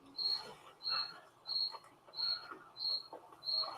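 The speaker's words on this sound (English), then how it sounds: "You can hear the cricket." A cricket chirps outdoors, six faint, evenly spaced bursts about every 0.6 seconds against quiet background noise.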